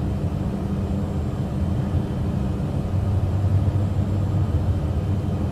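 Steady, loud cabin drone of a Cessna Caravan climbing after takeoff over wetland marshes in Africa, a continuous low engine and propeller rumble with airflow hiss and no talk.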